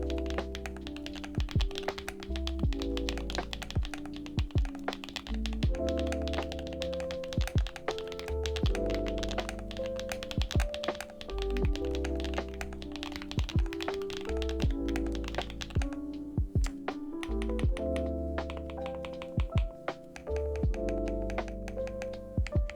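Continuous close-up typing on a budget mechanical keyboard fitted with Zuoce Macaron linear switches: steady streams of thocky keystrokes with occasional heavier thunks, uninterrupted by talk.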